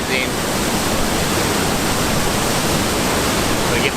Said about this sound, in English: A much better view of the waterfall.